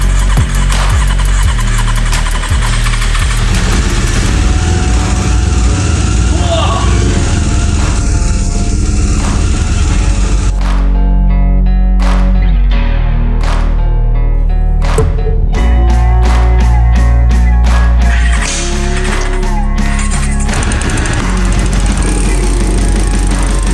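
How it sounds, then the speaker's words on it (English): A 33-year-old Honda CB400 motorcycle engine with a rusted fuel tank runs off a temporary fuel bottle. It gives a loud, steady, buzzing drone that cuts off midway, then brief sputtering restarts and blips follow before it runs again. "Let's add some fuel and see if we can get it running"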